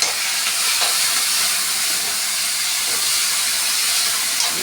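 Chopped tomatoes hit a hot pan with green chillies for tomato roti pachadi and sizzle in a steady, even hiss that holds at a constant level throughout, with no talking.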